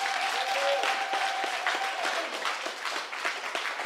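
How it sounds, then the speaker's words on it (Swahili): A church congregation claps together at a Sunday service, a dense, steady burst of applause that fills the room for several seconds with a faint tone ringing beneath it. "Hebu mshangilie Mungu kwa makofi."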